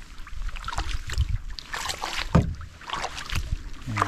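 Solo canoe paddling in Temagami wilderness: soft rhythmic paddle strokes and water swishes close by, with light wind, a few splashes and drips between strokes.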